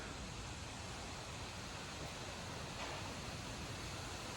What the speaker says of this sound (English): We got some light rain hitting the shed roof.